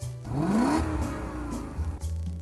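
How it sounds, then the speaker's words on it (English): Toyota 1UZ-FE quad-cam 4-litre V8 from a Lexus LS400, fitted in a Toyota Cresta LX90, revving up in one rising sweep and settling back to a steady, fairly close idle. "This is the Toyota 1UZ-FE, a quad-cam 190 kilowatt 4-litre V8 out of a Lexus LS400, and it sounds bloody lovely."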